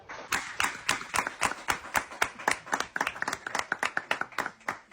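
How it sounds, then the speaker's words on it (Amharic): An audience clapping in rhythm, sharp regular claps in a fast even beat that carries on steadily, close and clear with no talk over it. "አጨብጭቡ።"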